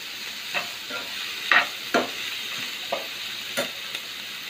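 Vegetables for street-style veg fried rice stir-fried in a pan: a soft continuous sizzle with several sharp scrapes and knocks of the spatula at irregular intervals, close and clear with no talk.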